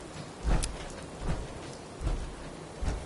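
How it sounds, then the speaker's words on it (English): Rain falls steadily in the Fallout 4 video game, a constant patter broken by several deep rumbles of thunder that swell and fade at irregular intervals, with no voices. "Hope this rain lets up soon."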